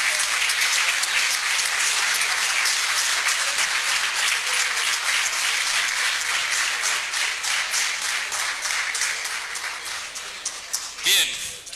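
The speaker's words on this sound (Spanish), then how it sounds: "Un aplauso, por favor" An audience at a renewable energy conference claps loudly and steadily for most of the stretch, thinning slightly near the end, with a brief sharp sound just before it stops.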